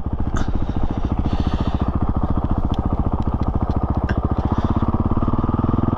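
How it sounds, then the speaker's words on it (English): A Honda CRF450RL dirt bike idles with a steady, rapid thumping single-cylinder beat, loud and close, with faint mechanical clatter and no talk. "I think it still idles around 5-6 miles an hour"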